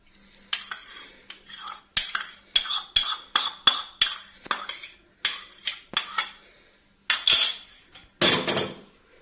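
A spatula mixes a chicken marinade of yogurt and lemon juice in a bowl, making a series of close, distinct clinks and scrapes against the dish in uneven bursts, with no talking.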